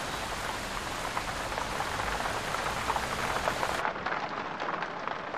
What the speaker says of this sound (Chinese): 怎么突然下这么大雨啊？